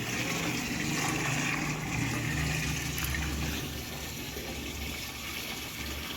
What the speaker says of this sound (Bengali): জল পড়ছে পড়ছে, জল পড়ছে